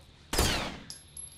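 Gunfire in Rainbow Six Vegas 2 during a terrorist hunt co-op match: one loud burst rings out, then a few quieter, fainter shots follow over a steady high electronic whine.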